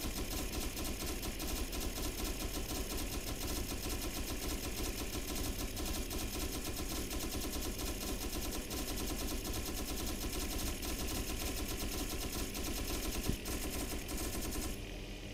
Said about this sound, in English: Okay, open fire. Opening fire.